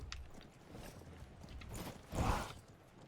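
Horse hooves clip-clopping in the Conqueror's Blade video game, a few soft, quiet steps followed by a louder thump near the end, with distant game ambience behind.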